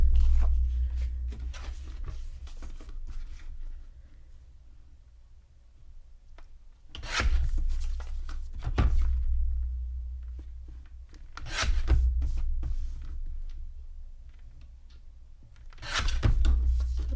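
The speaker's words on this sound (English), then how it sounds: "So let me bring my trimmer in and we'll get these cut down" A paper trimmer cutting photos down to 4x4 inches for a scrapbook layout: four separate rasping slices of the blade, each a second or so long, spread out between quieter handling noise and a low background hum.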